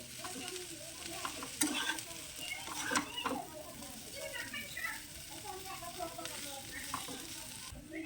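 Homemade noodles stirred with chowmein masala in a hot frying pan: continuous sizzling with repeated scraping and tossing of the spatula, close and steady throughout.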